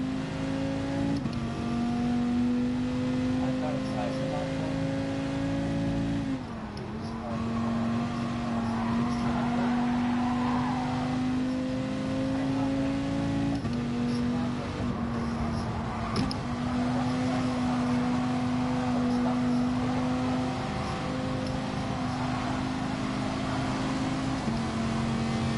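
Race car engine revving steadily in a racing video game during a practice session, loud and continuous with sustained harmonic drone, brief dip around a gear change, no talk.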